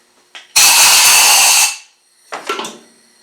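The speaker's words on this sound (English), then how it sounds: "Blow it out with a gun." A compressed-air blow gun blasts out a rebuilt 300Tdi R380 clutch slave cylinder in one loud, close hiss lasting about a second, followed by two shorter, fainter puffs.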